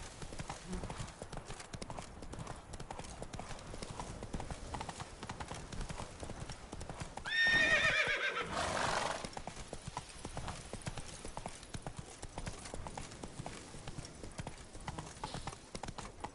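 Roach, the horse in The Witcher 3, clip-clops along in a steady trot, hoofbeats even and close, with a brief whinny rising over them partway through before the trotting carries on.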